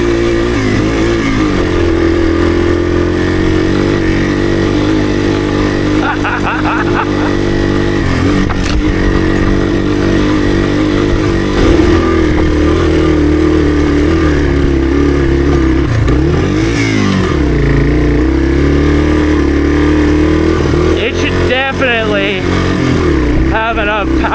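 A Yamaha TW200 motorcycle climbing a hill while ridden, its engine droning loudly and steadily with small shifts in revs, heard up close under wind and clatter, with a voice talking over it at times.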